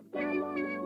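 A single cat gives one drawn-out, close meow lasting under a second, clear and alone.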